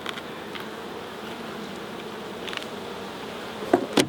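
Honey bees buzzing around an open beehive during a swarm-prevention check, a faint steady hum with a few louder close fly-bys toward the end.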